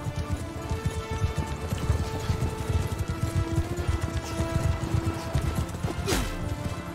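Cavalry horses gallop in Mount and Blade Bannerlord, a dense, continuous clatter of hooves close by, with battle noise and a sharp hit near the end.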